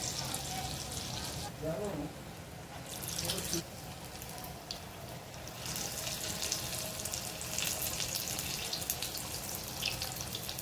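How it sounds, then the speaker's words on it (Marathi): Ajwain (carom) leaf pakoda fritters, dipped in batter, fry in hot oil with a steady, moderately loud crackling sizzle throughout, broken by brief wetter bursts as pieces go in. "एक एक भजी ह्याच्यात आपल्याला असं पिठामध्ये घोळवायचं आहे तेलात सोडायचं आहे"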